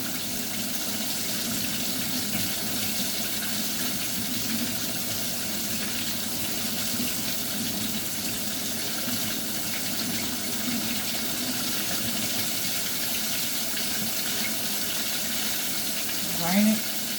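Tap water runs steadily into a kitchen sink as pickles are rinsed, a continuous close hiss and splash that carries on without a break, ending with a brief clunk.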